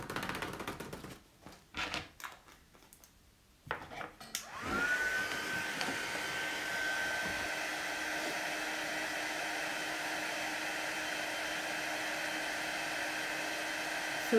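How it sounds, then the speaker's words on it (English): After a few scattered clicks and handling noises, a heat gun switches on and blows a steady, loud whooshing hum as it melts clear gloss embossing powder on a birthday card, running unbroken to the end. "we're just going to hold that heat gun still, and then as soon as that embossing powder starts to melt and change"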